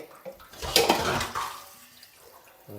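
Water gushes from a tap pipe fitted with a nozzle over a dishwashing tank in a short, splashy burst that swells and then tapers off, close by and with no voices.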